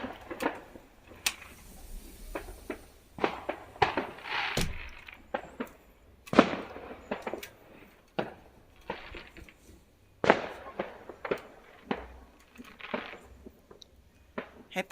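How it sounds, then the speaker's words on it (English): New Year fireworks bursting at a distance, a scattered series of sharp cracks and pops of varying loudness with short gaps between them, some clustered in quick bursts. "we have fireworks."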